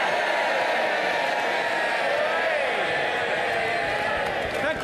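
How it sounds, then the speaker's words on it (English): Parliament chamber crowd noise for MP Craig Mackinlay, dense and continuous throughout, a broad wash of many people that reads more as crowd roar than crisp clapping, with voices mixed in. "And that's the only reason I allow clapping."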